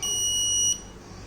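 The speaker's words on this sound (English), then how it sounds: "the system will send the message alert and along with the buzzer" A motion-triggered vehicle safety alarm built around a PIR sensor sounds its buzzer: a steady, shrill electronic tone held for about three quarters of a second before cutting off abruptly, loud and close with no voices.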